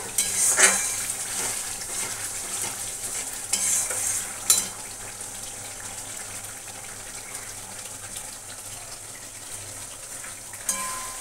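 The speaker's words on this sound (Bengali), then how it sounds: "আর এই মশলাটা দেখো তেল ছেড়ে আসছে।" Spice masala fries in oil in a pan, a continuous close sizzle broken by occasional scraping stirs and clinks, loudest early and settling into an even hiss.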